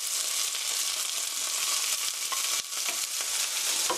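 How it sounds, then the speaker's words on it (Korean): Onion, garlic, cabbage and bell pepper fry in a pan with a steady, bright sizzle, broken by a few stirring scrapes and soft knocks, close and continuous with no talking. "팬에 어니언, 갈릭, 캐비지, 피망 다 넣어주세요."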